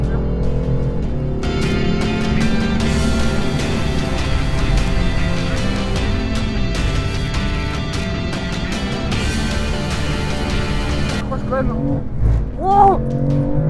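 A car drifts at high speed, its engine roaring loud and steady with tire noise running throughout, while voices talk over it inside the cabin before the engine note drops away near the end.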